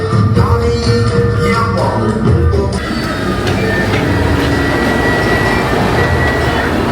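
An old vintage passenger train at Tuntang station rumbles close by, with a rolling, clattering roar and squealing metallic tones that shift midway, loud and continuous with no talk.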